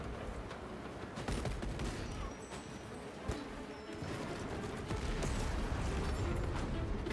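Heavy bolt rifle fire in the Space Marine 2 video game, a dense, continuous rattle of shots with sharp impacts and crashes running through the whole stretch at steady loudness.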